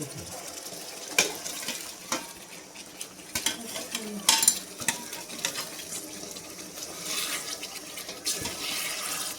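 Vegetables added to a cooking gravy for a Gujarati mixed vegetable dish and stirred, giving scraping, clattering stirring bursts over a low simmering hiss, with no talk.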